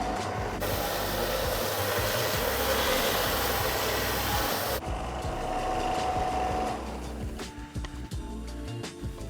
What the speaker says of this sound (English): I'm going to get them all sanded off nice and straight.